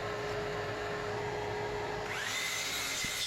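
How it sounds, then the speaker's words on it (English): A pocket hole machine with an adjustable fence drills pocket holes into wood boards for a floating bed, a steady loud whirring drill noise running throughout, close by with a rising whine near the end. "I use my pocket hole machine with the newly adjustable fence again to drill out these pocket holes"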